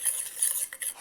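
A spoon stirs coffee cream in a pot on the stove, giving light scraping and soft clinking, quiet and close with no talk.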